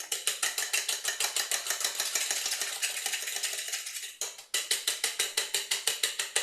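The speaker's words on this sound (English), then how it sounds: "Then you whisk it up." Eggs with onions whisked in a bowl: a fast, steady run of crisp rhythmic clinks and taps from the whisk striking the bowl, close and continuous, with a brief pause near the end before the beat resumes.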